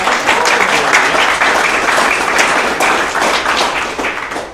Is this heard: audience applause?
yes